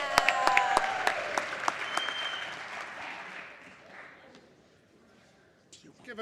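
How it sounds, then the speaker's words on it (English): Applause for teachers in a state House chamber session, a loud burst of clapping with a few sharp close claps that swells and then tapers off to near quiet, with faint voices near the end. "Give a big round of applause to all the teachers who are here with us this evening"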